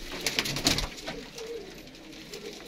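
Pigeons coo on a rooftop loft at a dera in Faisalabad, with soft, low murmuring calls that stay fairly faint, plus a brief flutter or rustle near the start.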